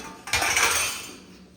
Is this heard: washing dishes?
yes